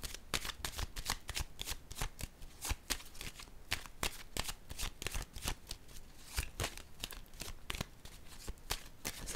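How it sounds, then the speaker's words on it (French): Oracle cards are handled, shuffled and laid down in a quick, continuous flurry of crisp riffling and slapping, close and distinct, with no talk over them. "Je vais déposer une carte sur le sacrifice à l'envers."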